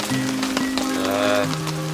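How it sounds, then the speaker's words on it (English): Rain falls on the British Columbia coast in a dense patter with wind, close and fairly loud, while a sustained tonal hum or voice-like drone runs underneath. "And we have a lot of wind and rain."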